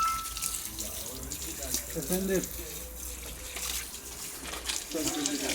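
Water sprays steadily onto an RKS RZ250S motorcycle being rinsed of polishing dust before ceramic coating, a continuous hissing wash under someone talking.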